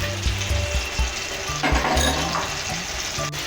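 Chopped tomato with salt, ginger and turmeric frying in a pan for a prawn and taro curry, a bright steady sizzle with a few scraping stirs and utensil clinks, close and alone.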